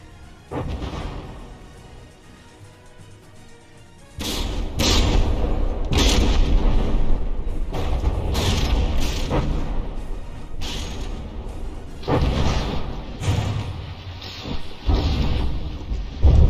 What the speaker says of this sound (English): the explosion even managed to breach the compartmentalization